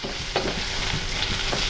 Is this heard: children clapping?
no